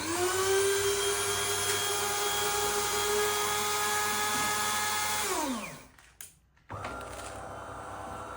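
A 2019 De'Longhi PrimaDonna Soul Evo bean-to-cup coffee machine runs its grinder and motor with a loud, steady whine. It winds down after about five seconds, pauses briefly, then restarts with a lower hum.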